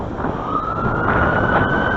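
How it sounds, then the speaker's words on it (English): An emergency vehicle siren wails loud and close, its steady high tone sweeping continuously over heavy traffic rumble and road noise, with no talk. "it's an ambulance"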